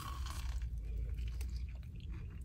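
Someone bites into a crunchy Korean corn dog, a close, loud crackling crunch followed by chewing over busy background noise.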